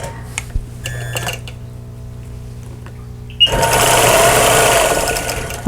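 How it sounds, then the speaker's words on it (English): A longarm quilting machine stitches in the ditch along half-square triangles on an apple leaf table runner: quiet mechanical ticking and whirring at first, then a loud, steady rapid stitching hum for the final two seconds. "I'm just trying to stitch in the ditch along those."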